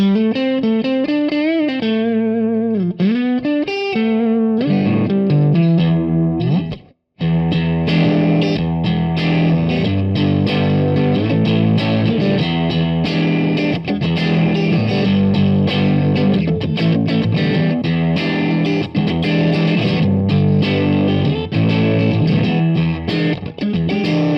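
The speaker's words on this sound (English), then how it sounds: "Next up, the Marshall JTM 45, also known as the Blues Breaker." Distorted electric guitar riffing through an overdriven Marshall JTM45 Bluesbreaker amp model on a Line 6 AX2 modeling amp, with a brief pause early on, then sustained chords and single notes.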